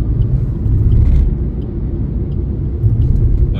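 Car driving along a highway before dawn on a road trip toward Haridwar, a steady low road and engine rumble with tyre noise, close and continuous throughout.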